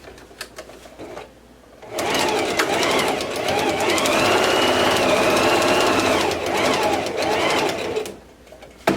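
A sewing machine stitches fabric for a bow, a continuous close mechanical whir lasting about six seconds between brief quiet handling sounds, with no talking.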